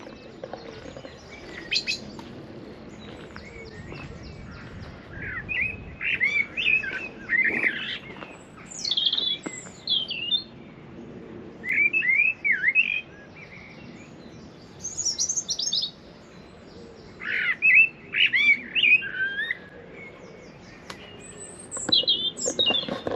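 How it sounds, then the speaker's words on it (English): A thrush sings in varied, repeated whistled phrases with pauses between them, fairly close, over a quiet outdoor background. "Is that a thrush?"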